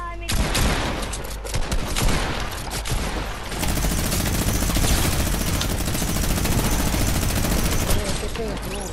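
Dense automatic gunfire in the Fortnite video game rattles in loud, continuous bursts of rapid shots, nearly unbroken throughout, with voices talking faintly underneath.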